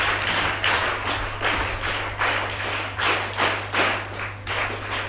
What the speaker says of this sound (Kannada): ವಿದ್ಯಾರ್ಥಿಗಳು ಜೋರಾದ ಚಪ್ಪಾಳೆಯೊಂದಿಗೆ